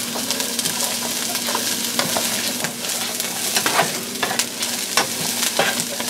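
Chopped vegetables sizzle in regular vegetable oil in a pan, a steady crackling hiss punctuated by frequent utensil scrapes and stirring knocks, close and fairly loud with no talking.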